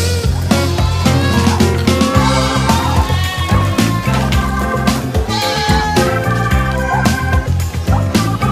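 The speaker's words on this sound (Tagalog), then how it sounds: "Mga bakalan po yan, mga batang lalaking kambing." A herd of young male Anglo Nubian goats on a goat farm, their loud, overlapping bleats forming a dense, constant chorus close by.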